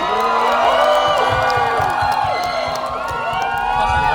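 Studio audience cheering and shouting for a contestant on a Thai entertainment show, a dense crowd roar with whoops and rhythmic clapping-like pulses, loud and sustained throughout.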